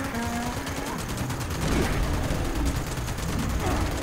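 Gunfire in the video game Fallout 76 comes as dense, rapid volleys that blur into a continuous loud crackle, heavy at close range, with a voice faintly in the mix.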